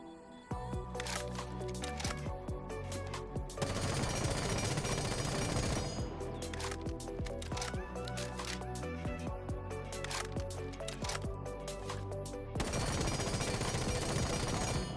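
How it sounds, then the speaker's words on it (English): Three full magazines of automatic gunfire in a video game, long rapid-fire bursts separated by brief pauses, loud and close with mechanical clatter between strings of shots. "I will click on Done and start to shoot 3 full magazines right next to each other"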